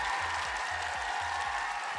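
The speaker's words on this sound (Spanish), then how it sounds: "Alexis, te mandamos un aplauso a Bélgica." A studio audience gives a steady, dense round of applause for a remote guest joining from Belgium. It runs unbroken at an even level with no voices over it.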